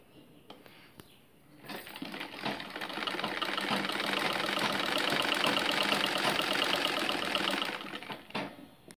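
Sewing machine stitching a blouse sleeve in rapid, even mechanical chatter that starts abruptly, runs steadily for several seconds up close, then stops, with a few clicks before and after.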